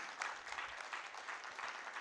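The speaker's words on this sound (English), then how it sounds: "I'd expect to hear an applause as well" Applause from an audience at a university industry conference, a steady wash of many hands clapping that stays soft and fairly distant for its whole length.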